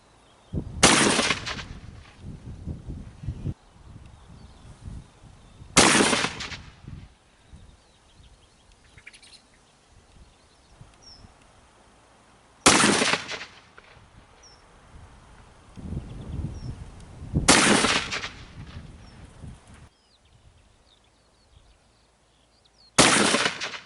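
A Baikal MP221 double rifle fires 150 grain bullets outdoors over a wire fence, five sharp loud reports spaced several seconds apart, each ringing briefly, with birds chirping faintly in the quiet between shots.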